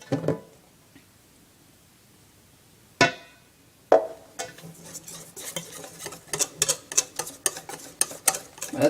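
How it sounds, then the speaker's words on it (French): A whisk beats crêpe batter hard in a bowl. A few isolated clinks come first, then a fast, steady run of sharp metallic taps against the bowl, close and clear. "Il faut remuer énergiquement, bien évidemment, pour éviter les grumeaux."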